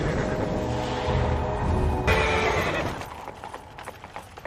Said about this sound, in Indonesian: mengelilingi kota menggunakan kereta kuda ciptaannya.